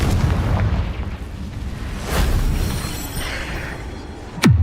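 A Confringo blasting spell explodes in Hogwarts Legacy, giving rumbling booms and bursts over a dense, noisy battle bed, with a sharp whooshing hit near the end; no talk.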